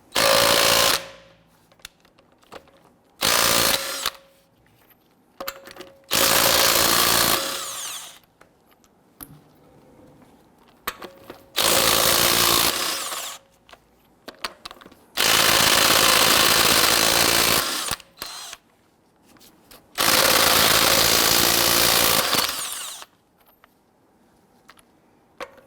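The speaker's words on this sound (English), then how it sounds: "we're going to use our 22mm socket to loosen and remove our lug nuts." An impact power tool on a 22mm socket loosens and removes lug nuts on a 2008-2017 Buick Enclave, roaring in several loud bursts of a few seconds each, separated by quiet pauses.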